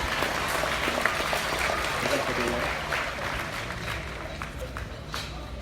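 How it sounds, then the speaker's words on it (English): Crowd applause rises at a livestock show for a congratulated exhibitor, clapping steady at first then thinning toward the end, with a voice speaking over it. "Please give him a big round of applause."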